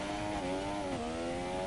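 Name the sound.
racing car engine revving in F1 video game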